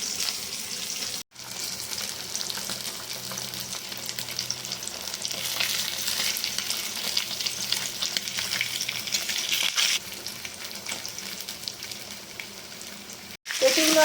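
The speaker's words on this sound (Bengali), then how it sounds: "অল্প অল্প করে ভেজে নিচ্ছি।" Food fries in a pan during Bengali lunch cooking, with a continuous hissing sizzle and occasional stirring scrapes, steady and close throughout, broken only by two brief cuts.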